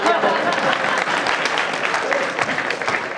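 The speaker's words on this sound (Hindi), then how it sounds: "एक बार पुलिस के लिए तालियां" A crowd at a village fair's poetry gathering applauds the police, a loud, dense burst of clapping that carries on steadily for a few seconds.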